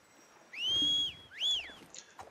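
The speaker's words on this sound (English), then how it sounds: "We're going to whistle the horse up." Two clear rising-and-falling whistles in quick succession, close and fairly loud, followed by faint background noise.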